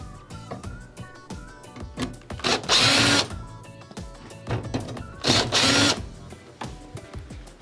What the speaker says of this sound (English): So we're gonna go ahead and remove the 2 right screws first.